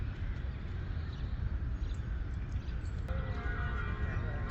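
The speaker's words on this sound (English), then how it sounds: "Oh, listen to the bells." Church bells ringing in Jerusalem, distant and faint beneath a steady outdoor murmur, with brighter bell tones coming through more clearly toward the end.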